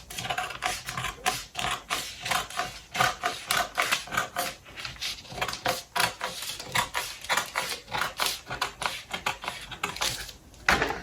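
Scissors cut through a paper corset pattern along a dart line, continuous close snipping and crisp rustling with a quick, steady rhythm.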